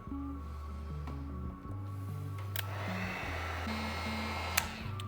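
A hair dryer blows steadily at close range over a freshly made Batman painting, a continuous whirring hum with shifting tones and a brief dip partway through.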